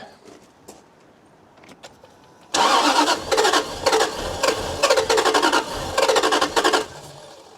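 A Jaguar XK8 engine cranks loudly with all injectors connected, a sudden burst of rhythmic starter churning that pulses for about five seconds after a quiet stretch, then eases off without catching.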